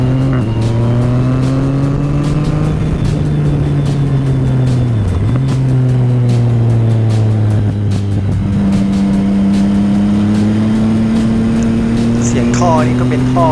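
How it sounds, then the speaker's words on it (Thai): A Yamaha MT-09 motorcycle engine with an aftermarket exhaust revs loud and close, pitch rising and falling through the throttle, with a raspy exhaust note and crackles near the end. "ตอนเปิดคันเร่งนี่โอ้เสียงอย่าง สี่สูบ เสียงหวานหวาน"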